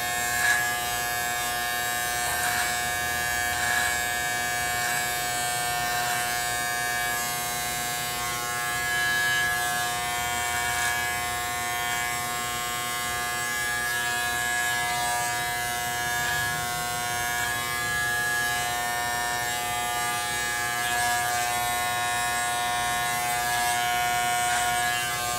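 Electric hair clippers cut a flattop haircut, giving a continuous close buzzing hum for about twenty-five seconds with slight wavering as the blades move through hair.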